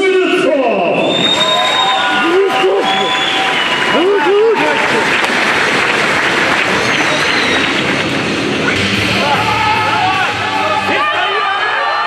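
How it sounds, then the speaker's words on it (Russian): A crowd at the WRPF 2015 world powerlifting championship applauds and cheers powerlifter Stanislav, a loud, steady roar of clapping and shouts, with an announcer and other voices talking over it. "Станислав уже заслуживает ваши бурные аплодисменты."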